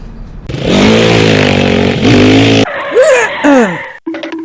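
A motorcycle engine runs loud and close, holding a steady, slightly rising drone for about two seconds before cutting off abruptly, followed by bright chirping and whistling sounds.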